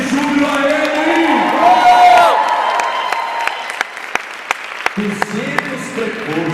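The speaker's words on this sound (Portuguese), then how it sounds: "Então aplauda o Senhor e dê grito de júbilo a Ele" Church congregation applauding and shouting for joy during a sermon, loud cheering and whooping voices over clapping at first, then the shouts fade to scattered claps and a few voices.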